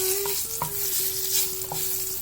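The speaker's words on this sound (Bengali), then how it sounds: "তেল গরম হয়ে গেছে, এবার 4টে শুকনো লঙ্কা এর মধ্যে ফোড়ন দেব" Dried red chillies sizzle in hot mustard oil with a steady close hiss. A metal spoon stirs through it with scraping taps, and no one speaks.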